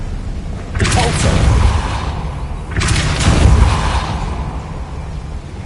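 Two loud, rumbling blasts of the Depulso force spell in the game Hogwarts Legacy, each a broad whooshing burst about two seconds apart that swells and lingers before fading.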